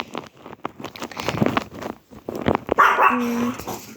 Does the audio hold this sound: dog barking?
yes